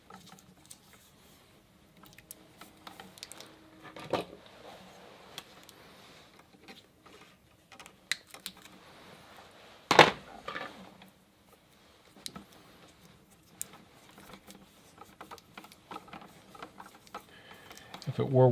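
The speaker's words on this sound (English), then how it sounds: "I just want to put 2 layers of the tape all the way around" Electrical tape wrapped twice around a 20 amp outlet and run under the screws, heard as faint, scattered crinkles, small clicks and rubbing handling noises, with a few sharper taps and no talking.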